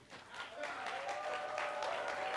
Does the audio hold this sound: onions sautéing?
no